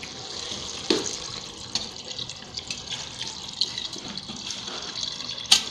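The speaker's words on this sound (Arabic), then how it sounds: "كيف ما كتشوفوا الماء دافئ، عاوتاني كنكبوا عليه" Warm water poured while making a homemade dish of thin noodles, a steady watery rush like a running tap with a few splashy splatters and small clinks, close and alone with no talk.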